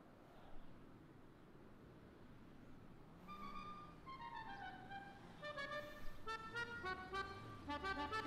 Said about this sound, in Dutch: Ik hoor een toeter.